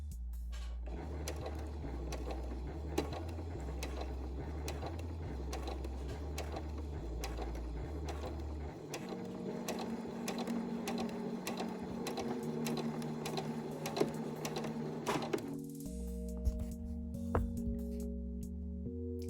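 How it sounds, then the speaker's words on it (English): A sewing machine stitches along the curved edge of fabric for a face mask, its steady mechanical whir running continuously over a sustained tonal backdrop, with a brief pause near the end. "Now I'm going to stitch along the curved edge of the fabric"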